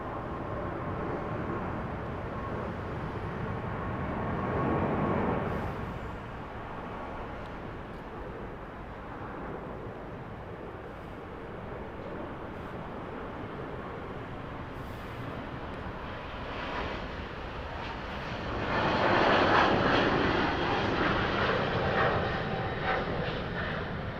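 A heavy Philippine Airlines airliner arrives at Los Angeles airport, its broad engine roar swelling near the start, easing off, then building louder again toward the end, with no talk over it.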